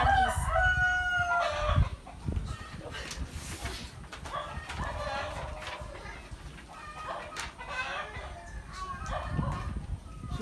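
A rooster crows loudly and repeatedly outside while chickens cluck around it, with scattered faint voices in the background.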